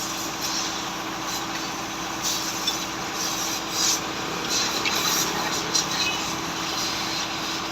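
Compressed air blasts dirt out of a tractor radiator at a brick kiln, a steady loud hissing rush with a low engine-like hum underneath and small bumps in level throughout.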